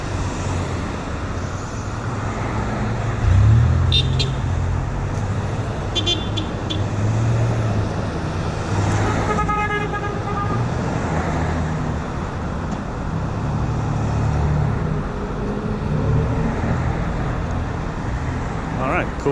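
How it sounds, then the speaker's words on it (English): Street traffic with cars rolling past and a few short horn toots scattered through a steady roadway rumble, with a voice talking over it. "Cool honks, got some honks."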